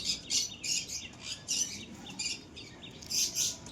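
Pigeons kept for sale give short, high squeaky calls in a quick repeating rhythm, several bursts spaced evenly, faint and fairly close over a quiet background.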